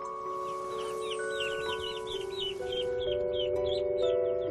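Chickens cluck and crow in a steady chorus on a Victorian-era farm among hens, chicks and ducks, repeated close calls over a constant background hum, with no voices.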